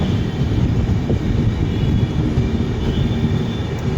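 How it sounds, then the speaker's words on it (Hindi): Steady, loud rumble of a train running at low speed toward Aligarh Junction as another train crosses from the opposite direction, a continuous broadband roar with no talk. "सामने से किसी ट्रेन के साथ हमारी क्रॉसिंग होने वाली है"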